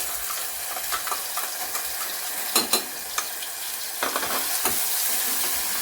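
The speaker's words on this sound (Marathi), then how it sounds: "परतून घ्यायचं वाटण छान एकाच मिनिटभर परतून घेतलं आहे" Ground roasted-coconut masala paste sizzles with whole spices in hot oil, giving a steady frying hiss broken by sharp scrapes and clicks of stirring. No voices.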